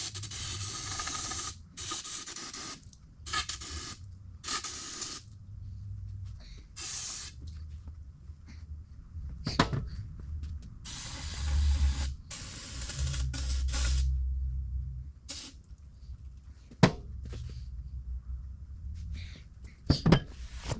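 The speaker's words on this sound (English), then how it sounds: "You need to spray both your tubes, stanchion and your lower tube out with brake clean, so it'll be nice and clean." Aerosol brake cleaner sprayed onto motorcycle fork tubes, stanchions and lower tubes, over an oil pan: several bursts of close, loud hissing spray, separated by pauses and a few sharp handling knocks.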